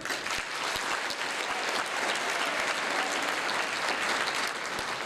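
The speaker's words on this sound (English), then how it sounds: "Round of applause for Dr. Haifa." An audience at an annual celebration gala claps for an introduced speaker, a dense, even roar of applause holding steady from start to finish.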